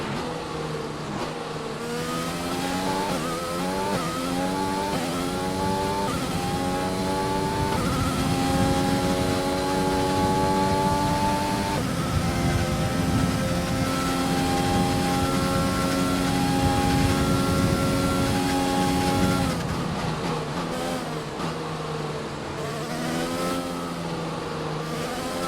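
A Formula 1 race car engine with a worn power unit screams continuously in F1 2020 gameplay at the Brazilian Grand Prix, rising through the revs, holding a high whine, then dropping and climbing again through gear changes.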